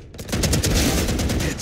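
Rapid bursts of gunfire in the tactical shooter Valorant during a spike-planted round, dense repeated shots filling the clip loudly and continuously with no talk.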